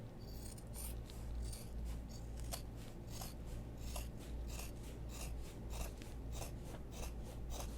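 Scissors trimming fabric for a messenger bag, a run of close, crisp rhythmic snips and slicing rasps repeating steadily, quiet and alone without talk.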